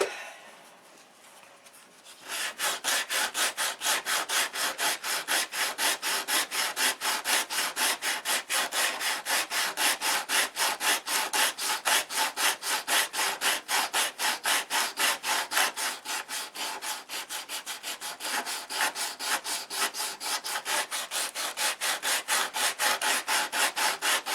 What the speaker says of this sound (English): So now we'll grind on the bottom here.